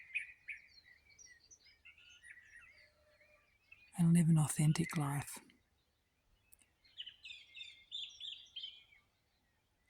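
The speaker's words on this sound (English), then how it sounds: "I just heard the bird song and really wanted to share it" Small birds chirp and sing outdoors in quick, high twittering phrases, fairly faint and scattered. Someone briefly speaks partway through, then the birdsong resumes alone.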